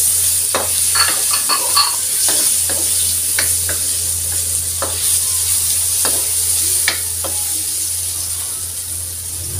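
Onions sauté in a pan for beef caldereta, giving a loud, steady sizzle with scattered sharp scrapes of a stirring utensil over a constant low hum.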